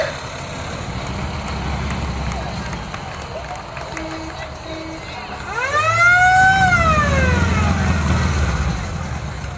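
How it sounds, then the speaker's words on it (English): A Bradford fire tanker truck in a fall foliage festival parade sounds its siren, which rises and wails loudly close by over a rumbling engine after a steady background hum and a couple of short tones. "This is the newest truck in service, the Bradford Fire Tanker."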